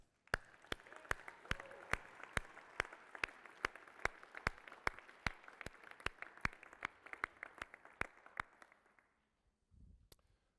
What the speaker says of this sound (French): J'aimerais ça qu'on puisse applaudir avec cœur.